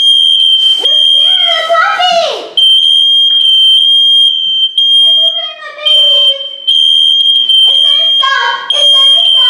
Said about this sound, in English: You do get the alarm that goes off first